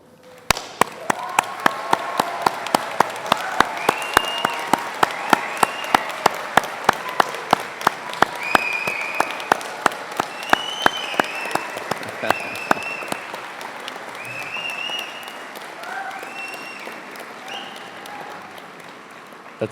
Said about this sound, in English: join me in a round of applause to thank them